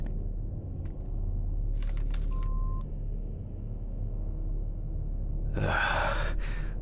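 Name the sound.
phone dialing in Autopsy Simulator video game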